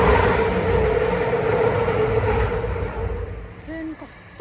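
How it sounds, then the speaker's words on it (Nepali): A local train passes a small station stop, giving a loud, steady rumbling roar that fades slightly toward the end, with a brief squeal near the close; voices are faintly present. "ट्रेन कस्तो कराउँछ यो ट्रेन"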